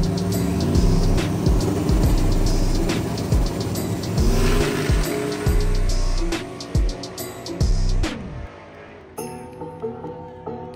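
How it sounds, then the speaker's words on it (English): A turbocharged truck races down a no-prep drag strip, its engine roaring loud and close as it revs hard and climbs in pitch, then cuts off abruptly near the end, followed by quieter sputtering and crackles. "In this next race, we have Cody Hoffman in the left lane driving the LSSS truck."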